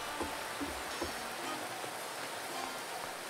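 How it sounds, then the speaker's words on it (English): Rain falls steadily in the video game Atelier Firis, a soft, even patter with scattered drop ticks, quiet and with no one talking. "It's raining again."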